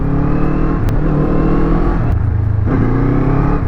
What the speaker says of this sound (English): let's open the throttle just very quickly